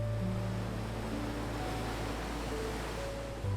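Ocean waves washing continuously as a soft, steady broadband wash of surf, even and unbroken, with low droning tones layered beneath and no voices.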